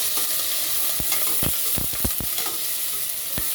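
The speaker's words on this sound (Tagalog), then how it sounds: "Isa tayo ng sibuyas, saka bawang. Saka lagyan ng yan, atay. Saka halo-haloin na natin." Onion, garlic and chicken liver stir-fried in a pan, a constant sizzle broken by several loud scraping clacks of a spatula stirring, close up and without talk.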